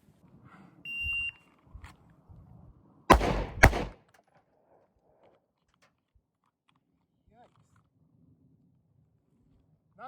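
Two loud, sharp pistol shots from a SIG P365XF, fired close together at a shooting range, standing out against a quiet background with faint movement noises before and after.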